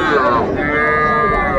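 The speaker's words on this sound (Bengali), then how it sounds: "ষাঁড় বাচ্চা আমরা দেখছিলাম" A young bull calf moos at a busy cattle market, one drawn-out bellowing call rising and then holding steady, heard up close over the background murmur of the crowd.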